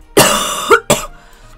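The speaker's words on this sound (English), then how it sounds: "Talking too much gives me coughs" Two harsh coughs in quick succession, close and loud, the first longer and rougher than the second.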